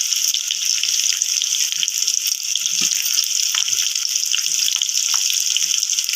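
Curry leaves and coriander frying in hot oil in a pan for chicken fry: a steady, bright crackling sizzle continues throughout, with soft occasional clinks and stirring sounds underneath.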